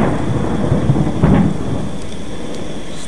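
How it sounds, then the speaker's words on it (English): Thunder rumbles in a stormy night scene of the Slender horror game, with a loud low roll over steady heavy rain and a few brief sharper crackles near the end. "Stop with the motherfucking lightning."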